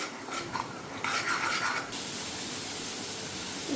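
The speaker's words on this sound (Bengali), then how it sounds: "তো এখন মশলাটা ভালো করে ভাজা নিই।" Ginger, garlic and green chilli paste sizzles softly in a pan while a utensil stirs and scrapes, with a brief louder burst of frying partway through.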